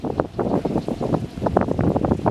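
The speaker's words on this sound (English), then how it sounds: "That shushing noise is actually from the wind turbine behind it." A steady rushing, shushing whoosh from a spinning wind turbine beside a smaller WindSpot turbine, mixed with gusty wind buffeting the microphone outdoors on Penghu island, Taiwan.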